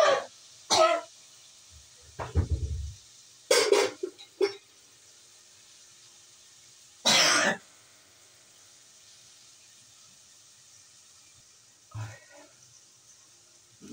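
A person coughs and clears their throat in short, scattered bursts, some single and some in quick clusters, close by with quiet gaps between them.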